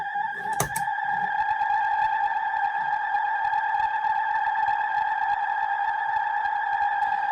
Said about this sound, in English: I've got this set to quite a fast delay.